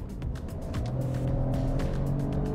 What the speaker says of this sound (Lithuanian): girdisi šiek tiek ir lietus už lango, ir padangos sukimančios su asfaltu, ir netgi variklio 3 cilindrų darbas.